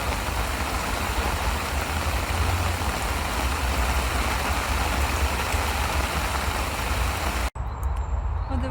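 Heavy rain falls steadily on a vegetable garden, a dense, even roar of drops that runs unbroken for several seconds, then cuts off abruptly near the end before resuming more faintly.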